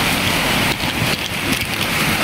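Rain falls steadily outdoors as a dense, even hiss of drops hitting surfaces, loud and close for the whole moment, with no talking.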